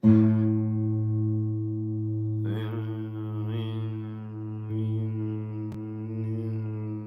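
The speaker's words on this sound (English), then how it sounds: "So if the 440 and the 432 are happening simultaneously, what you hear is this like it sounds like a rhythm" Two steady tones tuned to 440 and 432 Hz sound together, held loud and close for several seconds and producing a slow, wavering beat, with a few brief clicks and shifts in the middle.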